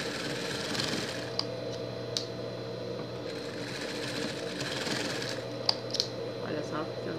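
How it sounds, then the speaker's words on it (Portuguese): A sewing machine stitches a seam on a Minions-themed pet costume, running as a steady close mechanical whir with a few sharp clicks, while someone talks over it in Portuguese. "Vai fazer uma costura."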